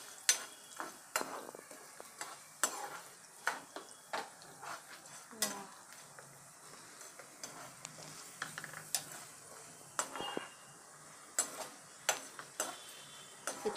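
Chana dal dry-roasting in a pan for tomato pickle, with a faint steady crackle and repeated soft scrapes and taps of a spoon stirring the lentils, close and quiet, no talk.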